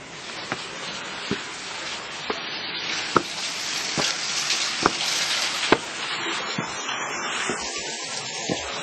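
A waterfall near the Rescia caves rushes in a steady, dense roar of falling water, loud and close, with scattered sharp ticks and splashes over the continuous wash and no voices.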